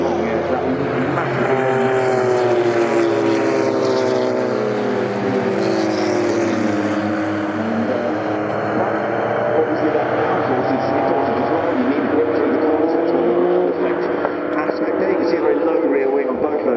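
Porsche 956 and 962 Le Mans-style race cars run at Goodwood, a loud, continuous engine drone with shifting pitch throughout, under a commentator talking.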